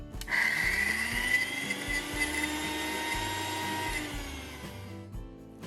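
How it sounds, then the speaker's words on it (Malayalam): A mixer grinder whirs steadily as it grinds soaked dal into a coarse paste for Kerala-style parippu vada, one continuous burst of a few seconds with a high motor whine, starting and stopping cleanly. "കണ്ടിന്യൂസ് ആയിട്ട് 4-5 സെക്കൻഡ് നേരം മാത്രം അരയ്ക്കുക."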